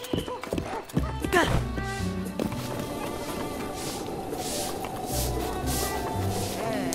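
In Zelda: Breath of the Wild, a horse gallops past through a town with rapid rhythmic hoofbeats and a whinny, close and loud, while someone talks over the game sounds.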